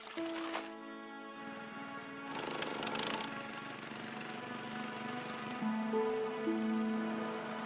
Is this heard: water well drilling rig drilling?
yes